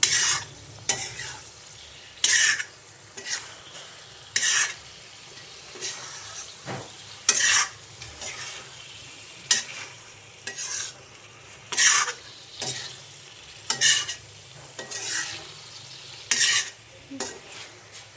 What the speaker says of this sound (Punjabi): ਇਹਨਾਂ ਨੂੰ ਵੀ ਆਪਾਂ ਚੰਗੀ ਤਰ੍ਹਾਂ ਮਿਕਸ ਕਰ ਦਾਂਗੇ ਹਲਕੇ ਹੱਥ ਨਾਲ ਇਸ ਤਰੀਕੇ ਨਾਲ ਹਿਲਾਉਂਦੇ ਹੋਏ